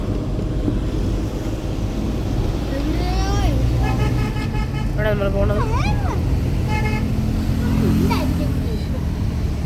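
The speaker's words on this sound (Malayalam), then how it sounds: "പോകുന്നവരെല്ലാവരും ഹോണടിച്ച് ആ ഹോണൊക്കെ പൊട്ടിക്കും." Car horns toot briefly amid continuous road-traffic rumble while riding along slowly, several short honks scattered over the steady noise, with a person talking nearby throughout.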